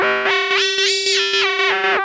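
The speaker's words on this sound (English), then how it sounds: "So you can hear adjusting the ratio now has a big timbral impact." An Arturia MicroFreak synthesizer in FM mode holds one sustained tone while its operator frequency ratio is swept. The timbre shifts in bright, buzzy steps over a constant pitch, loud and alone.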